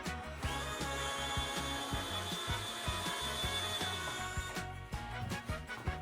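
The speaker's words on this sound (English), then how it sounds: "Now I drill a hole from the back side into the dowel to get a pilot hole." A drill bores a pilot hole into the back of a wooden dowel while building a grinder belt board, producing a steady grinding whir with rhythmic low knocks and rattles that continues close and loud throughout, with no talking.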